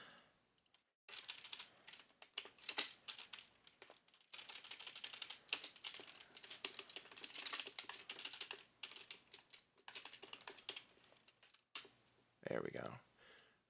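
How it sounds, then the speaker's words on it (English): Fingers type on a computer keyboard during a gaming session, rapid uneven bursts of close, crisp key clicks broken by short pauses, followed by a louder low thump near the end. "Helps if I actually push the right buttons on the keyboard"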